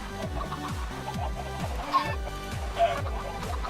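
Blocky Minecraft chickens cluck in a quick repeating rhythm, several short clucks per second running steadily under faint game ambience with no talking.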